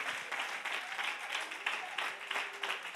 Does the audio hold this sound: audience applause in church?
yes